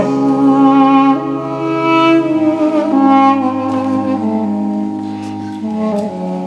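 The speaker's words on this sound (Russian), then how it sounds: "И там, где заканчиваются слова, начинает звучать дудук." Armenian duduk melody inside a church, backed by sustained church organ chords: a warm reedy lead line sings over rich held harmonies, full and resonant throughout with no speech.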